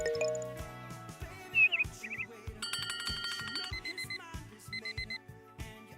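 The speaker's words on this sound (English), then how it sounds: "Oh, we have alarm sound." A synthesized alarm tone from a roguelike crawler RPG under development in Unreal Engine 5 rings in repeated, pulsing electronic beeps and chirps layered over other game sounds, moderately loud.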